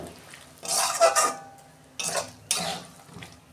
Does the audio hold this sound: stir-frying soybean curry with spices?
yes